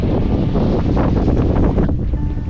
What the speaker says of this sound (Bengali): ওরে বাতাস,